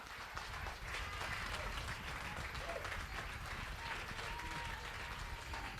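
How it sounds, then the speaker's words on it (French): A church congregation applauds and cheers steadily during a sermon, dense sustained clapping and crowd noise filling the room at a constant level throughout. "Tu acclames frénétiquement."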